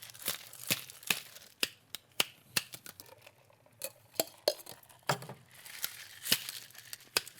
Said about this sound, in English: So why are you throwing the ice off?